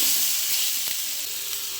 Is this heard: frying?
yes